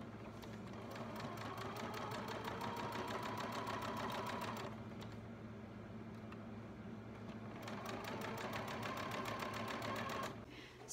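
A sewing machine stitching a fabric handkerchief runs steadily and close by with a rapid, even needle clatter, pausing briefly midway and then resuming before stopping near the end.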